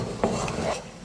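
Roasted coconut being stirred into a thick gram-flour sweet mixture in a pan, with a few soft scraping strokes of a spoon against metal over a low background hiss.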